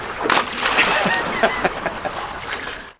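A tagged Dorado fish is released off a sailing boat in the North Atlantic and splashes into the water, a brief sharp splash followed by sloshing and dripping, close and loud.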